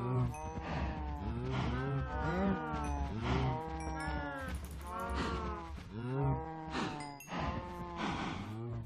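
Cows in the Minecraft video game moo repeatedly in overlapping calls, several animals close by and loud, lowing one after another throughout with no talk over them.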